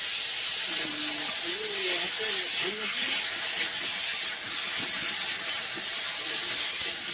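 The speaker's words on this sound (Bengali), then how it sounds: "এবার পুঁই শাক কষানো হবে বাড়ির শক্ত পুঁই শাক দিয়ে মাংস একদম জমজমাট হয়ে উঠবে" Tough homegrown Malabar spinach sautés with country chicken in a pan over a wood fire, a loud steady hiss of steam and sizzle throughout, with a faint voice briefly audible near the start.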